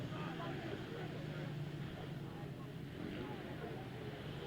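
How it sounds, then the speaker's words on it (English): 500cc solo grasstrack racing motorcycles roar at a memorial meeting, a dense, steady wash of engine noise and wind heard from a distance, with no clear gaps in the sound. "Race 27 then, 500cc solos, the revs rise, the tapes fly."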